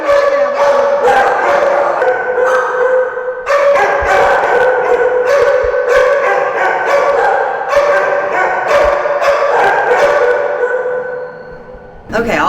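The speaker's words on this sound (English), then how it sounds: "She's barking right now" A pit mix dog barks and howls continuously at an animal shelter, loud and close, with other sustained noise and possible voices underneath throughout.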